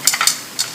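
Red onion sizzling in a frying pan while being stirred, for pork kaldereta: a few quick scraping stirs with hissing bursts, close and fairly loud.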